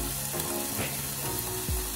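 Bacon bits and garlic frying in olive oil sizzle steadily in a pan, a soft, even crackle with a few faint clinks of a utensil, heard up close with no talking.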